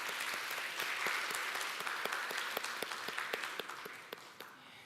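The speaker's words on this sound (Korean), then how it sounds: "저희 환영의 박수하면 좋겠습니다." A church congregation claps in welcome for visiting elders during a Sunday service, a dense, even round of applause from a roomful of people that gradually thins and fades out toward the end.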